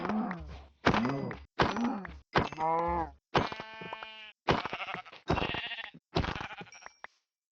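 Eight sharp, loud bleats from video game sheep come one after another in close succession, each call wavering and distinct, with brief silences between and no talking.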